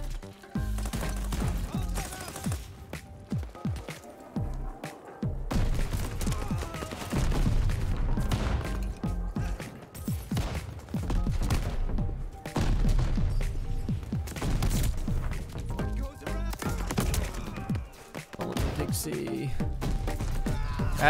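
Dense, continuous gunfire from the shooter video game Call of Duty: Vanguard, bursts of automatic rifle fire and explosions running nearly nonstop and loud for the whole span, with a player's voice talking over the battle.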